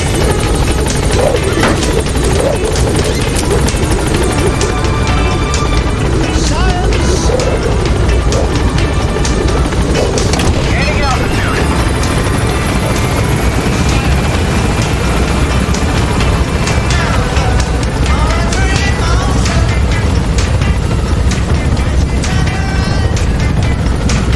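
A helicopter in Metal Gear Solid 5 gains altitude with a loud, continuous rotor thrum and engine whine, steady and close throughout, with faint radio voices briefly audible.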